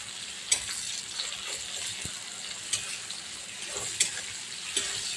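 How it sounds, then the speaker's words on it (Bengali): Chopped tomatoes sizzle steadily in hot oil with onions as a spatula scrapes and stirs the pan now and then, a close crackling hiss without speech. "টমেটো কুচি দিয়ে নাড়াচাড়া দেবো"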